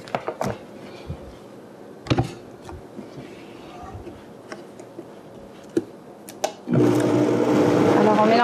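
Countertop blender mixing a frozen vegan chocolate ice cream mixture, switching on near the end as a loud, steady whir after a stretch of knocks and handling sounds, with a voice speaking over it.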